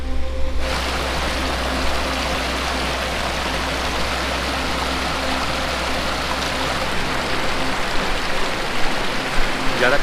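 A cold glacier meltwater stream in the Milam Glacier area of the Johar Valley, Uttarakhand, rushes close by in a loud, steady broadband roar with no letup.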